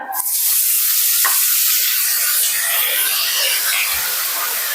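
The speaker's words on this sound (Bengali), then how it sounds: "এবার আমি ফোড়নটা খুন্তির সাহায্যে ভালোভাবে একটু ভেজে নেব" Whole tempering spices fry loudly in hot oil with a strong, steady hiss, and a spatula knocks against the pan a couple of times as they are stirred.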